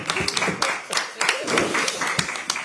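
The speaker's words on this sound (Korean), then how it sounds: "큰 박수 부탁드립니다." Applause from attendees at a party leadership meeting in Korea, many claps mixed with murmuring voices and chatter throughout, moderately loud and close.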